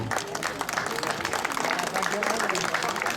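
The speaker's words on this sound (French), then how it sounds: "On peut les applaudir." An audience at a vintage car festival in Dourdan claps for a couple and their car after a contest presentation, a dense, steady patter of applause from a crowd with some voices mixed in.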